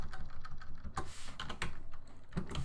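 Steady typing on a computer keyboard while entering text into a software editor, with a dense run of close, crisp key clicks and occasional heavier strokes, no speech.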